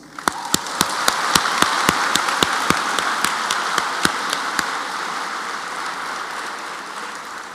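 Audience applause at a university graduation ceremony, a dense, steady clapping that swells quickly, holds, then slowly thins and fades, with a few sharp louder claps standing out at the start.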